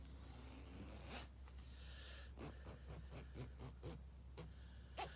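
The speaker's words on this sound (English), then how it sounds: "This is a really nice reinforced sewn down zipper that has the big teeth." A heavy-duty zipper with big teeth, reinforced and sewn down on fleece, is pulled in several quick rasping strokes. Each stroke is short and close, with brief pauses between them, over a steady low hum.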